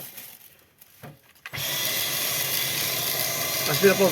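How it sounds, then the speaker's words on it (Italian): Quiet handling noises, then a Dyson V12 cordless vacuum cleaner whose brush bar fails to rotate abruptly whirs on at close range and runs with a steady high-pitched roar. "se io vado ad accendere l'aspirapolvere"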